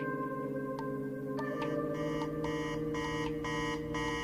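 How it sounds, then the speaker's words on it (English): An alarm clock rings at 3:15 a.m., with a steady electronic buzzing tone that turns into rapid repeated pulsing beeps, loud and continuous. "the alarm clock started ringing"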